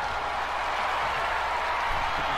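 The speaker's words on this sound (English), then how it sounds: "this crowd is just getting louder and louder and louder" Steady, dense crowd roar at a live wrestling tag-team title match, loud and continuous throughout with no pauses, a broad wash of cheering voices filling the whole moment.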